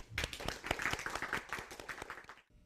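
A small studio audience claps for a guest on an idiom talk show, distinct individual claps in a brisk uneven patter that cuts off abruptly near the end.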